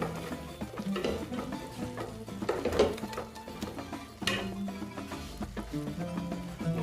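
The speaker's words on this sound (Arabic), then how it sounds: "غادي نخلط" A spoon stirs spices, ginger and turmeric in a cooking pot, with scraping and clinking against the metal in irregular strokes and a louder knock partway through, close by with no talking.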